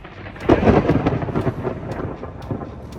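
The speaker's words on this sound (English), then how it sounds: "I got the lightning and the terrifying thunder" Thunder from a lightning storm at the Croatian border rumbles in a loud, deep roll that swells early and then slowly fades with scattered crackles.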